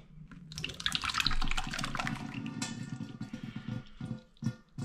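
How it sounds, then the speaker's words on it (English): Plum cider splashes and trickles steadily through muslin cloth, with irregular drips and a fuller pouring sound at the start, close up and fairly quiet. "You can hear that dripping through"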